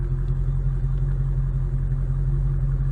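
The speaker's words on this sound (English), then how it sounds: "Go ahead and get a close-up of that exhaust. That lovely V8 rumble there." Deep, steady V8 exhaust rumble from a 2022 Dodge Challenger R/T Scat Pack 392 with automatic transmission, heard close at the tailpipes as a continuous idle drone with no talk.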